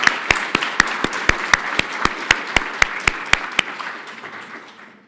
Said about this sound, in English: Please give a round of applause for Denny.